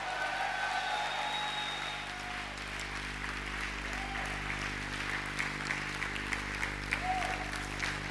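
Sustained applause from a large church congregation, steady clapping filling the room for several seconds with no pause.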